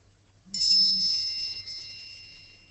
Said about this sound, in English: is that your meditation bell there, Dr. K?